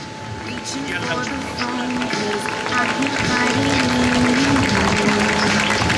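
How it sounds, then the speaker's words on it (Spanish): Steady crowd applause for a runner at the Cambados urban mile race in 2018, sustained and building slightly, with an announcer talking over it and a faint hum throughout. "Ese fortísimo aplauso para Laura Santos"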